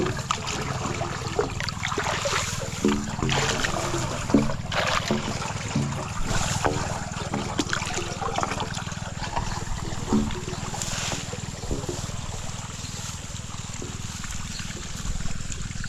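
Irrigation water running into a cornfield, a steady close rush and trickle of flowing water filling the whole stretch with a broad continuous wash and small splashy surges, no voices over it.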